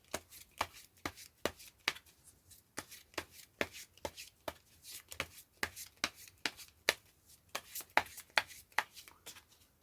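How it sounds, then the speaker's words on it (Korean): Tarot cards are shuffled by hand in a series of crisp riffling bursts, close and fairly quiet, repeating in an uneven rhythm of about twenty short strokes with near silence between them. "저 또한 같은 것을 생각하면서 카드를 섞어 보도록 할게요"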